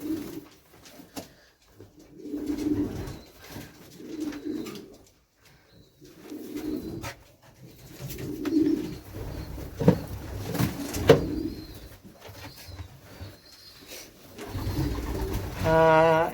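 Racing pigeons in a loft coo repeatedly in low, rolling bursts at close range, with brief higher chirps and rustling mixed in and a louder flutter near the end.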